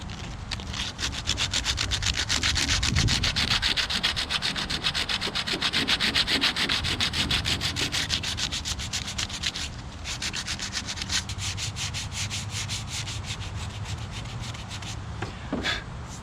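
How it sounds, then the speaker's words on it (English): Steady hand sanding of hardened Bondo body filler over rusty pitting on a Ford F150 step bar, a continuous close rasping scrub with rapid back-and-forth strokes lasting throughout, with brief pauses near the end. "Let's sand it down."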